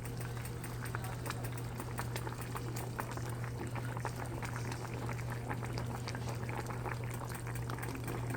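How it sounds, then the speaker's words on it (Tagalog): A pot of food with chilli at a rolling boil, dense continuous bubbling and popping close by, fairly quiet, over a steady low hum. "Kumulo na."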